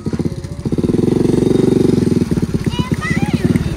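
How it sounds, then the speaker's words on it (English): A motorbike ridden by a kid and loaded with other kids runs loudly nearby, its engine buzzing steadily and rising before easing off as it passes. "A kid driving a motorbike with a bunch of other kids."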